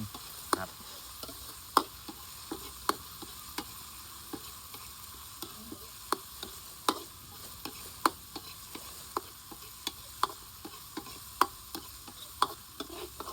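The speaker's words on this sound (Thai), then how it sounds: "ผัดให้หอม ก่อน" Chilli and garlic stir-fried in a pan for basil clams, a constant quiet sizzle punctuated by regular sharp spatula taps against the pan, roughly two per second.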